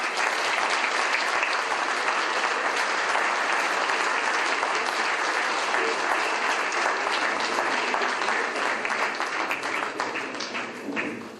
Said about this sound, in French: je vais laisser la parole à Bruno Le Maire, que je vous demande d'applaudir